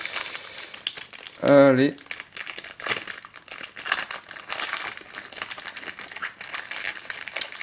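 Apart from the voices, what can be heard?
opening a Yu-Gi-Oh card booster pack wrapper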